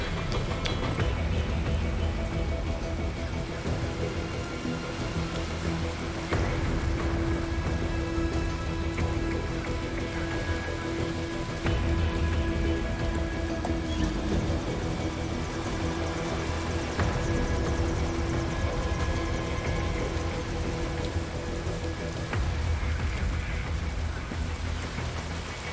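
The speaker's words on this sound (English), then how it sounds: "And it's raining to symbolize mental distress." Steady rain in the video game Metal Gear Rising, a dense continuous patter of drops across the whole stretch with a low rumbling bed beneath, no speech over it.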